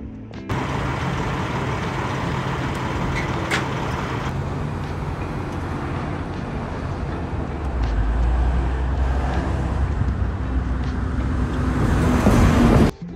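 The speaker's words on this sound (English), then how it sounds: "I got a cool little clip of it getting off the truck" Lexus IS F rolling off a transport truck, steady engine and road noise throughout that builds toward the end, with no talking.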